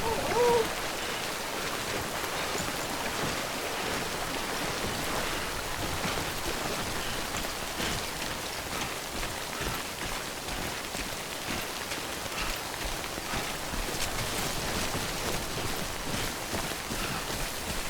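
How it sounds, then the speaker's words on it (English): Timefall rain pours down in Death Stranding, a steady, dense hiss that holds unbroken at an even level from start to finish with no voices. "Don't stay out in the rain any longer than you have to."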